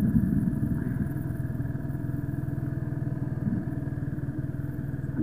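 A motorbike ridden by a first-time learner chugs along with a steady, low, throbbing engine note and some rattle, close and continuous throughout.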